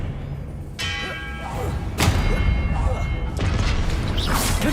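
A spell cast as Expelliarmus in Hogwarts Legacy, with magical whooshes and thudding, ringing impacts in a few bursts over busy game noise.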